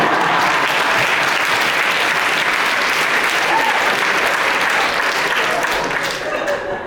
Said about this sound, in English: Let's get another round of applause for my speech.